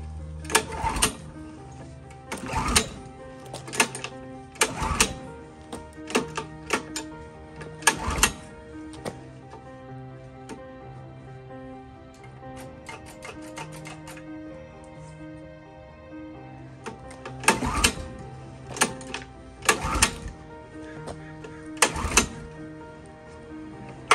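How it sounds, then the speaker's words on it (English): A Stratos race kart engine being pull started on a stand, several sharp recoil pulls arriving in bursts with pauses between them, loud and close, and the engine never catching. "Let's pull start and see what happens."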